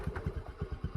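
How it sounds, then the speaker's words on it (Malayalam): A motorcycle engine, just started after repair work, runs at a steady idle with a regular low, thumping pulse about eight beats per second. It is close and moderately loud, with no talk over it. "വണ്ടി ഓണായി ഗൈസ്."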